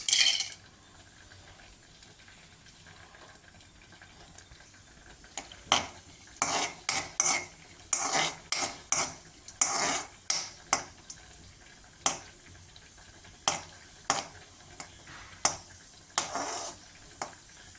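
A cup of cashews is stirred in ghee in a pan for sakkarai pongal, a quiet low sizzle under a run of sharp, irregular spoon clicks and scrapes against the metal.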